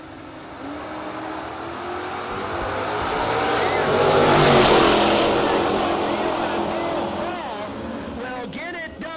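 Drag race cars, among them a Superstock Camaro, roar past at a no-box drag racing event, engine noise swelling to a loud peak mid-way then fading, with an announcer talking over it.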